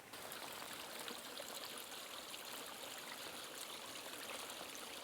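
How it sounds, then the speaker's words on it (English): Steady rushing and trickling of water spilling out of a pond overflow, a constant gentle flow with no pauses, heard alone at a low level. "any of the pond doesn't hold is released out the back here in this overflow"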